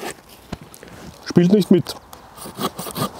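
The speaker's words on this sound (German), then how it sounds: "Das Holz liegt hier nicht auf, es ist kein Druck drauf und trotzdem verkantet sich die Säge etwas" Folding hand saw cutting through wood in a comparison of a Nordic Pocket Saw and an MFH Deluxe folding saw, rasping strokes that catch and scrape unevenly, close by, with someone speaking over them.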